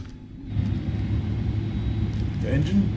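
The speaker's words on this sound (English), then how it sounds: "The engine, the cockpit noise and the engine's so loud." Steady loud engine roar inside the cockpit of an IniBuilds A310-300 airliner in Microsoft Flight Simulator, a continuous low rumble rising slightly after the start, with a brief voice-like sound near the end.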